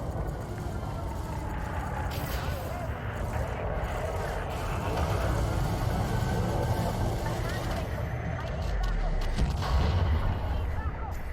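Ship weapons fire from a spacecraft in Elite Dangerous, heard as a continuous dense rumbling barrage with repeated blasts swelling louder toward the end, under steady engine noise.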